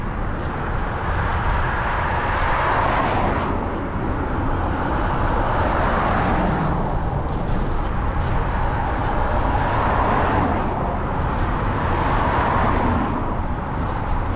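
Road traffic on the A39 rushes past in broad, continuous swells, vehicles coming and going every few seconds in a loud, steady roar heard from the roadside.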